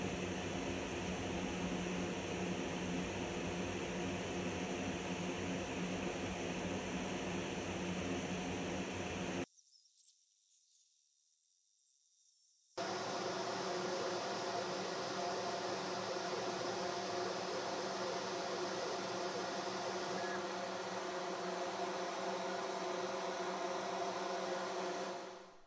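An Ortur Laser Master 2 Pro laser engraver cuts through a plywood outline at slow speed, producing a steady broadband fan and mechanical whir close by, briefly dropping out before resuming.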